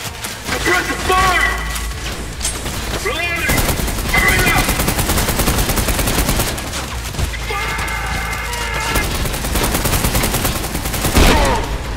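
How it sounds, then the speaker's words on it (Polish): Rapid gunfire and heavy blasts from the shooter game Trepang2 fill the mix, with sustained automatic bursts and booming impacts while a player talks over the action. "O kurde, wybuch."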